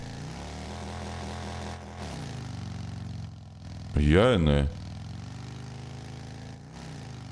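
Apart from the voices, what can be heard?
large vehicle engine running in video game Drive Beyond Horizons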